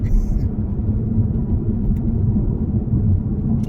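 A car being driven, heard from inside the cabin as a steady low rumble and road drone that holds at an even level throughout.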